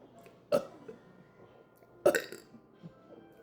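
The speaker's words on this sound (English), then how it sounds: "here's a burp for you guys." Two loud, abrupt burps, spaced about a second and a half apart, come after tasting a drink, with quiet room background between them.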